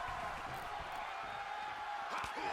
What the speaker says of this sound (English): And the crowd going absolutely bonkers here